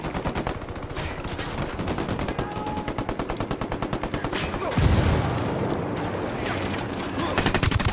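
Sustained gunfire in the Ghost Recon Wildlands video game, a rapid automatic rattle of many shots with a heavier burst near the middle, loud and continuous throughout.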